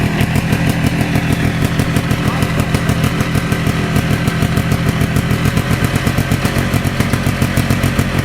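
A four-wheeler quad with an FMF exhaust runs loud and close, its rapid, rasping engine pulses hammering steadily throughout with no letup.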